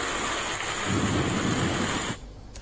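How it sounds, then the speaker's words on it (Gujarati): Rain falling during a summer storm in Gujarat, with hail and strong winds, heard as a steady broadband wash with a low rumble of thunder swelling midway, then cutting off abruptly near the end. "જે દ્રશ્યો આપ જોઈ રહ્યા છો ઉનાળામાં પડી રહેલા વરસાદના દ્રશ્યો છે"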